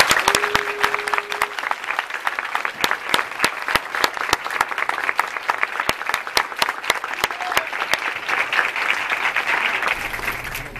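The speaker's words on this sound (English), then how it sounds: "each and every time you hear the thunderous applause" Thunderous applause from an audience at a senior all-night party with a hypnotist, dense steady clapping with sharp individual claps standing out, sustained loud throughout with no talking.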